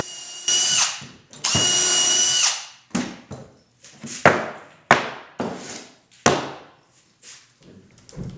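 A drill press bores into a wooden block with a Forstner bit, several loud close whirring bursts of cutting that start sharply and trail off, separated by short pauses.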